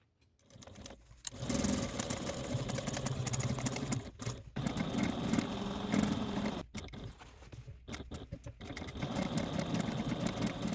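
A domestic sewing machine stitches the seam of a fabric project bag, running in bursts of fast, even whirring separated by short pauses, close and clear.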